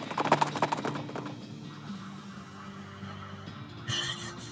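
Horse in the video game West of Loathing, a quick run of rhythmic clip-clop hoofbeats at the start, then a drawn-out low whinny over a humming background, ending with a brief bright burst of sound.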